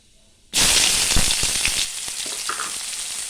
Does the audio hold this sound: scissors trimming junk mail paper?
no